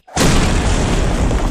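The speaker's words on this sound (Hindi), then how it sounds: "एक जोरदार धमाका होता है" A loud bomb explosion bursts in suddenly and roars on as a dense, sustained blast that holds its full force to the end.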